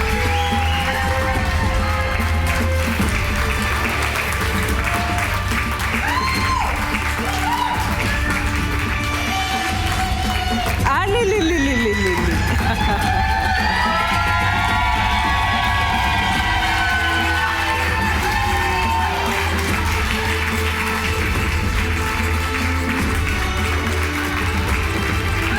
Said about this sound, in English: Keep the applause going for Faiza